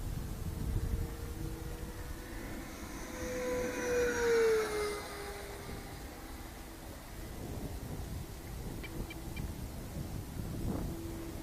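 A FreeWing Stinger 90 Super 10S RC jet at half throttle makes a steady broadband rush with a rising whine that swells as it passes near, then fades back into a constant roar; wind noise sits underneath throughout.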